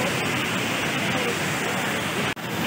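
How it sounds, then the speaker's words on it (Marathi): The Indrayani river flowing near Kundamala Falls, a steady, loud broadband rush of water filling the whole stretch, with no clear talk. "हा इथून जे आहे ही नदी वाहत आहे, इंद्रायणी नदी म्हणतात त्याला"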